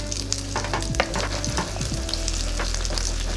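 Eggs being scrambled in a hot frying pan sizzle steadily while a utensil scrapes and stirs with a few distinct knocks, all close and without talking.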